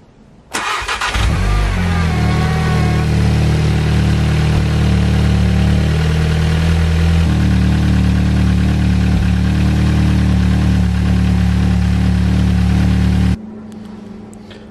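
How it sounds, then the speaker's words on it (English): A Volkswagen Golf GTI engine cranks briefly with a whirring starter, catches, and settles into a loud, steady idle for several seconds before cutting to a quieter hum near the end, with no talking. "Now I'm going to show you the Golf GTI for an example cranking test."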